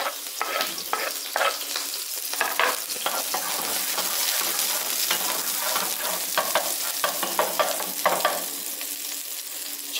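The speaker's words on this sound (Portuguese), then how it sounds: "Deixa eu dar uma fritadinha. Ó, quando o alho começar a dourar, eu vou entrar com o camarão." Garlic frying in plenty of olive oil in a pan for a shrimp pasta sauce, a dense, loud and steady sizzle with scattered crackles and occasional stirring scrapes, close up and with no talking.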